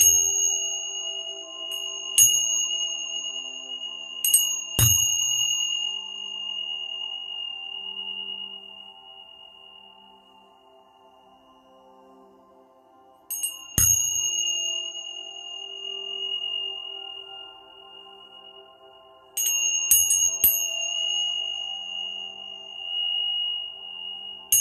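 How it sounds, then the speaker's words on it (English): Bells and chimes for relaxation ring out in three separate clusters of struck, sustained metallic tones with long decays. A quiet steady drone lies beneath them and no one speaks. "Listen to the bells or the chimes. Let them relax you."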